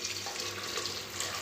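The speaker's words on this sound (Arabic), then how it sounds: "دوكا انا راح نمرقو بالماء سخون" Hot water poured over meat in a pot to start a broth for chakhchoukha in red sauce, a steady close rushing splash under no talk, brief and even.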